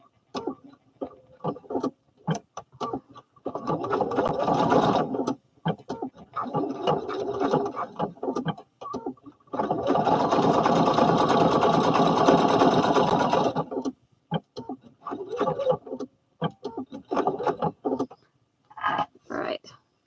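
A domestic sewing machine stitching down a fabric selvage edge, running in several bursts of rapid mechanical whirring separated by pauses, close by, with a voice speaking softly between runs.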